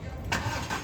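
A car engine cranking and catching after a repair, with brief bursts of starter and engine noise over a low rumble, close and moderately loud.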